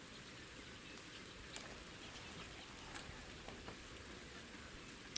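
Steady rain in the fishing game Ultimate Fishing Simulator, a soft continuous patter with occasional brighter droplet ticks, fairly quiet and even throughout with no talking.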